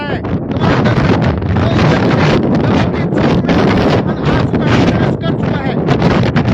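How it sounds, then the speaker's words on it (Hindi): Strong storm winds in Nohar roar and buffet the microphone, loud and continuous with surging gusts throughout. "तेज हवाएं चल रही हैं"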